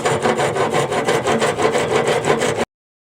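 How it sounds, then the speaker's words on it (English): A hand file rasps steadily over a twisted wooden back scratcher, a close, even back-and-forth scraping with quick rhythmic strokes and no talking. "the angle of the file so we can actually start to smooth over these parts here"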